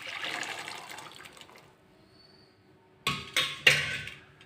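Boiled black chickpeas and their cooking liquid are tipped into a pan for soup, giving a brief watery splash that fades away. Three sharp, close knocks against the pan follow.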